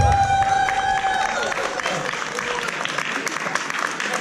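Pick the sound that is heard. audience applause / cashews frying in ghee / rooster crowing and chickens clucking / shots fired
audience applause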